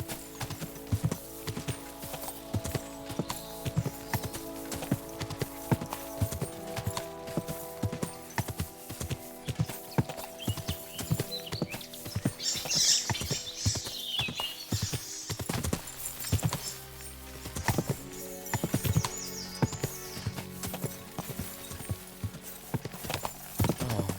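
Hooves clip-clop steadily as a horse is ridden through open country in Kingdom Come: Deliverance II, an unbroken rhythmic trot close up with a faint neigh partway through.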